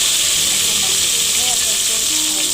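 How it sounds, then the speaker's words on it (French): Onion and tomato hit hot oil in a pan for a Comorian chicken and potato coconut curry, giving a loud, steady, hissing sizzle that fills the whole short stretch. "une fois bien chauffé, nous allons mettre de l'oignon et de la tomate."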